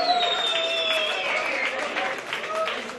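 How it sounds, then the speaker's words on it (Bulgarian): Applause greets an award winner at an English Sunday league awards event, a crowd clapping beneath a voice that keeps talking over it. "Антон Евтимов, аплодисменти!"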